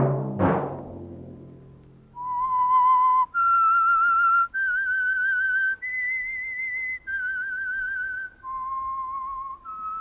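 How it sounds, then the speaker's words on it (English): A clear whistled theme tune for The Whistler mystery radio program, a melodic series of sustained, bright notes carried alone after a short opening chord-like sound, loud and close. "Let that whistle be your signal for the Signal Oil program, The Whistler"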